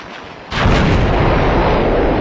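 A missile launching in Minecraft with the Voltz mod, a sudden loud roaring blast that starts half a second in and continues as a dense, sustained rumble, close and overpowering.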